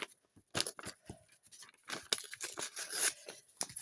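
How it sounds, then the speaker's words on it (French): Scrap paper being torn by hand during a recycled-paper craft session, a series of short ripping bursts and crinkles, close and fairly quiet, with brief pauses between tears. "je vais déchirer un bout"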